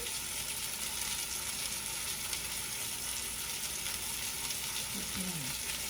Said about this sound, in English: Now, while that's browning up